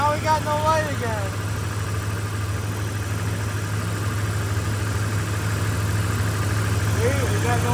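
A truck engine with a misfire runs steadily at idle, a low continuous drone with a strong hum throughout, while people talk over it at the start and end.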